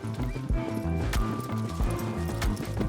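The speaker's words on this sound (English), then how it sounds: "They added totally superfluous things to the horse riding, like standing up or hanging off the side." Horse hooves clip-clop in a steady, rhythmic gallop in the video game Shadow of the Colossus, loud and close over a tonal musical score.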